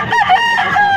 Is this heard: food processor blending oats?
no